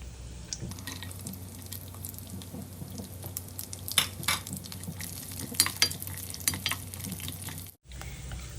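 Dry fruits roast lightly in ghee in a pan on the stove, a soft continuous sizzle with occasional stirring clinks and scrapes, close and fairly quiet, with no talking.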